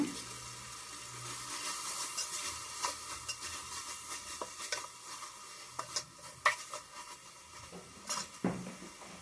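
A spoon scrapes and stirs chopped green chili, coriander leaves and mint in a hot pan for chicken biryani, with irregular clinks against the metal and a soft sizzle running underneath, close and moderately loud, with no one talking.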